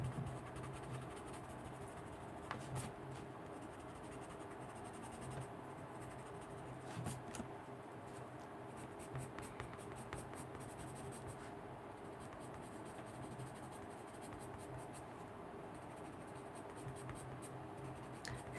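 Colored pencils, Prismacolor, being used to color and burnish a mermaid drawing on paper: a steady, close scratchy scraping of pencil strokes that runs without a break, with a low background hum beneath it.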